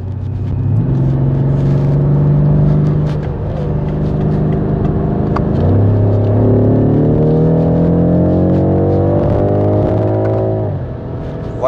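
A BMW M5 F90 sedan pulls hard under acceleration, its engine note climbing steadily, then dropping instantly at a quick gear shift around the middle before rising again, loud and continuous with no speech.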